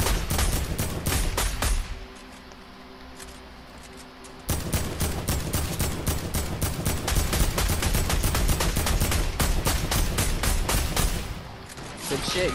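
Rapid bursts of automatic gunfire in the Borderlands game on Pandora, loud and nearly continuous with dense repeated shots and a short lull before resuming, with players talking over it.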